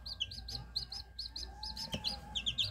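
Newly hatched and ten-day-old chicks peep in a steady run of high, rapid chirps, close and clear, with a brief thump partway through.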